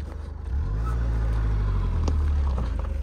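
A car engine strains and revs loudly and steadily on a rough Ladakh mountain road, a low droning roar that swells after a brief quieter start and holds close throughout.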